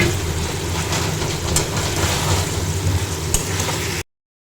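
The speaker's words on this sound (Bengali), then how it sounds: "এরপর আমি এখন এই চিকেনগুলোকে দিয়ে দেবো।" Chicken pieces sizzle and fry steadily in a pan of sauce for Bengali chilli chicken, a dense continuous hiss with faint stirring, close and fairly loud, no talking, ending abruptly.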